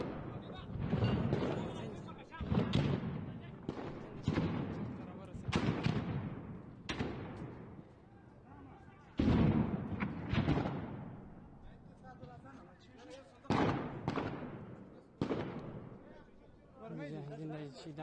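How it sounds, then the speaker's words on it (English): Distant gunshots and bomb blasts in Kandahar city come as repeated heavy booms and rumbling bursts, some followed by lingering echoes, across the whole stretch with voices faintly in the background. "the sound of, you know, the bombs, the gunshots, whatever's happening there"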